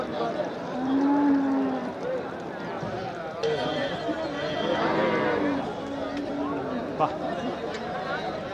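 Cattle moo several times, long low calls rising over a busy background of people talking and moving around nearby at the Melur cattle market, where bullocks are being sold.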